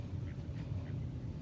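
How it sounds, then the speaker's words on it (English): A duck quacks a few times, faint and somewhat distant, at a fishing lake over a steady low rumble of wind and outdoor noise. "There goes the duck"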